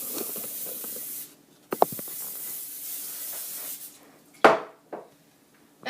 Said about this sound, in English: you're going to spray your greaser pan